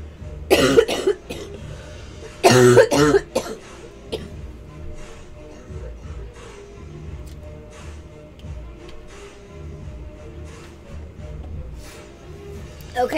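A person coughs in two loud, harsh bursts early on, followed by quieter breathing and faint background sounds.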